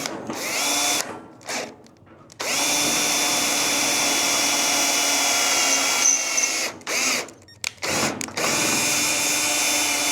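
A power drill whirs loudly and close as it cuts spot welds on the cab of a Ford F800 truck, running in long bursts broken by short pauses and a couple of brief stops near the end.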